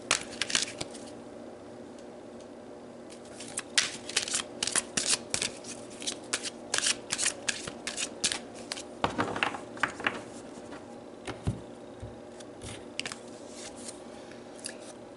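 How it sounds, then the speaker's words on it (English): Tarot cards are shuffled and pulled by hand, close, with irregular bursts of riffling, flicking and soft clicks, busier early on and thinning out toward the end, with no talking. "So let's pull some more cards."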